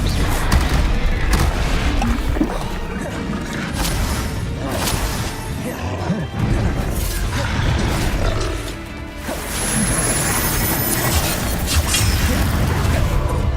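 Confringo explosion spell cast in the video game Hogwarts Legacy: loud, continuous booming crashes and whooshes of a magical battle, dense and sustained throughout with only a brief dip midway.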